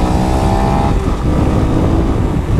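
A Honda Pop 110i motorcycle engine runs close by, a loud, steady low rumble with a brief higher whine at the start that fades after about a second.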